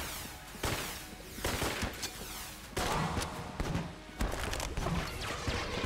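Gunfire in the video game Enter the Gungeon comes as a run of sharp, loud shots and short bursts. The shots are irregularly spaced, with thuds in between.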